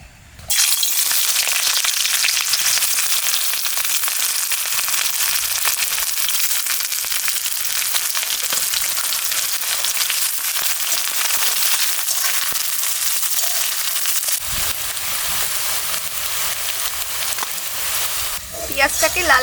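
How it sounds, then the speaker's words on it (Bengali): Sliced onions frying in hot oil in a wok over a stove, browning for a crisp topping: a loud, continuous hiss and crackle that starts abruptly and holds steady for the whole stretch. "পেঁয়াজটাকে লাল লাল করে ভেজে বেরেস্তা বানিয়ে নিচ্ছি"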